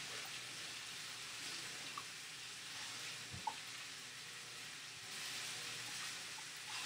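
Water runs steadily and quietly from a tap into a kitchen sink while a bowl that held a shrimp mixture is rinsed out, a soft constant hiss with a couple of faint clinks.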